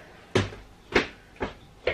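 Kitchen drawers or cupboard doors banging open and shut as snacks are raided, four sharp knocking thuds spaced about half a second apart, fairly close and with no talking.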